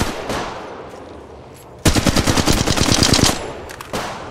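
Automatic gunfire in the mobile shooter Apex Legends Mobile: a loud, rapid burst of about a dozen close shots lasting over a second, followed by a couple of fainter isolated shots.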